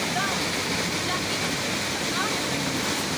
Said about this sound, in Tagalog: Ito yung ilog oh.